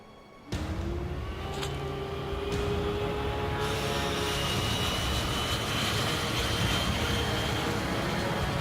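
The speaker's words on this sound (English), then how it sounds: "We'll escape with my training jets." Training jet in the video game Ace Combat 5 spooling up and taking off, a sudden loud onset into a rising whine and dense engine roar that builds and holds steady.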